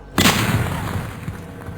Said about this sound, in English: does anyone hear this gunshot?